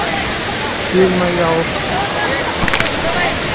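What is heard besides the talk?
Kalu waterfall rushing water in Maharashtra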